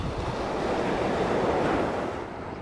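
Waves wash onto the beach at Half Moon Cay in the Bahamas, a loud, continuous surf roar with wind buffeting the microphone and no voices.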